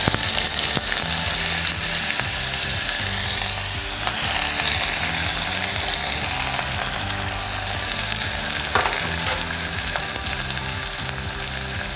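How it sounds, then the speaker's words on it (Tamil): Chopped onions and green chilies frying in hot oil for a tomato kurma, a loud, steady sizzle with occasional scraping and clicking of a utensil, no voices. "இப்போது எண்ணெய் காஞ்சிச்சு, வெங்காயம் போட்டுக்கலாம். வெங்காயமும் பச்சை மிளகாவும் போட்டுக்கலாம்."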